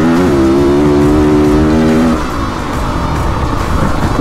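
A 500 cc two-stroke enduro motorcycle held at full throttle on a hill climb, its loud, raspy engine note near and constant, holding a high pitch before dropping slightly as the load changes, with no voices.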